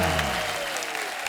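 Studio audience clapping on a comedy talk show, a broad, sustained burst of applause with a faint tonal hum beneath, steady and fairly even throughout the short moment.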